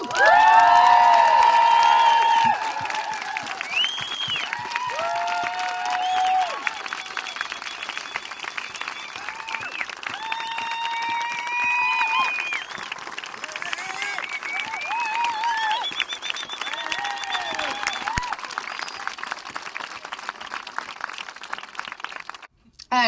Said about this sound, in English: Let's give a huge cheer for those who have organised and put this whole event together today for us.